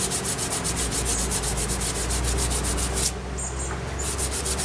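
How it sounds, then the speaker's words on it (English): Fine sandpaper rubs steadily over a wooden hiking stick during final sanding, a close, continuous rhythmic scratching with back-and-forth strokes that briefly softens near the end. "I'm doing the final sanding on it"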